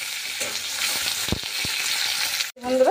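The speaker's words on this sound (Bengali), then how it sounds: "পেঁয়াজটা খুব ভালো করে ভাজানো হয়ে গেছে" Chopped onions fry in mustard oil in a wok with five-spice, bay leaf, giving a steady close sizzle with a few stirring knocks, then a brief break and a sharp burst of sizzle near the end.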